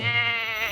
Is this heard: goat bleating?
yes